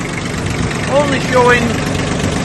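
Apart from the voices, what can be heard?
Kubota B1702 tractor engine running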